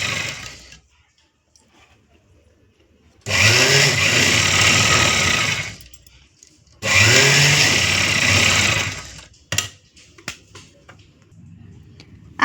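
A sewing machine stitching a blouse button strip runs in two loud, steady bursts of a few seconds each, separated by quiet pauses, with faint handling clicks afterward.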